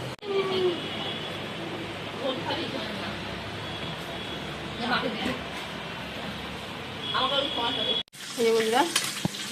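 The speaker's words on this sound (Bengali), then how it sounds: "মাছগুলো ভাজা হয়ে গেছে মাথাগুলো ভাজা হচ্ছে" Fish heads fry in a pan with a continuous crackling sizzle and occasional stirring clatter, while people talk over it nearby.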